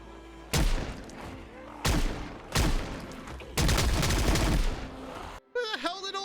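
Magnum revolver gunshots in the video game Project Zomboid: four loud, sharp blasts in quick succession, each with a ringing tail, the last one longer and denser, then a brief burst of voice-like game sound at the end.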